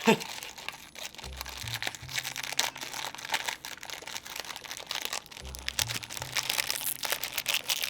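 Crinkling plastic wrapper of McVitie's British sweets being torn open and handled, a steady rustling crackle close to the mic throughout, with no talk.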